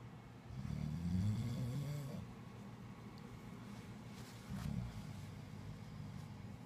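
A husband snores in a dark bedroom, two low rumbling breaths about three seconds apart, the first longer and louder, heard faintly close by with quiet room noise between.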